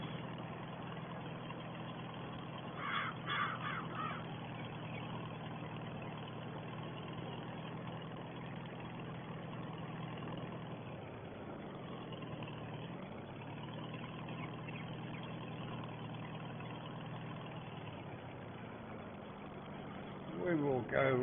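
A 1950 Farmall 300 tractor drones steadily while ploughing a field, a low continuous engine rumble heard at a distance for the whole stretch, with someone talking over it.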